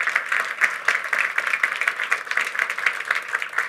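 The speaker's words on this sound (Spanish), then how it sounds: "fuerte el aplauso" Steady applause from an audience after a tech talk on modernizing NGINX, many hands clapping in a continuous, fairly close wash with no speech over it.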